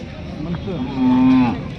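A low, sustained bovine moo rises over a busy livestock market, with people talking nearby and crowd murmur throughout.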